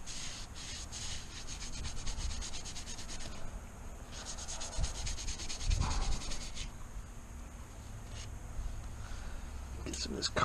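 Scotch-Brite pad scrubs carbon off a Celica engine part during a rebuild, producing rhythmic rapid rubbing strokes in bursts, close and fairly quiet, with a voice speaking at times.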